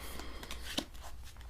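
Tarot cards shuffled by hand during a reading, soft papery riffles and flicks repeating faintly over a steady low background hum, with no voices.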